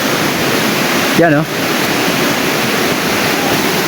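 Lambingan Falls, a waterfall on a large river in the Philippines, pours as a steady broadband rush that fills the scene, with someone briefly speaking over the constant roar.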